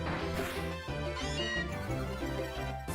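Meowth's cat cry in the PokeRogue video game, a short synthesized meowing call over game music and sound effects, fairly quiet, with no talk.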